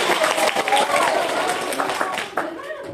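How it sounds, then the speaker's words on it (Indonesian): Applause from a crowd gathered for an Isra' Mi'raj commemoration, a short burst of clapping mixed with chatter and voices. "Tepuk tangan."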